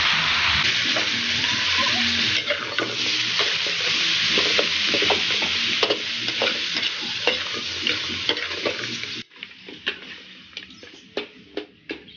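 Adobo sizzling and frying in a pan while being stirred, with steady loud sizzle and repeated scraping stir strokes throughout, the sizzle dropping quieter near the end while clinks and stirs continue.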